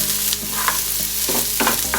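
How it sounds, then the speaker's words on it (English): Chopped onion sautés in a pan with ginger, giving a continuous close sizzle broken by several short stirring scrapes. "I'm going to put chopped onion and saute it for a while"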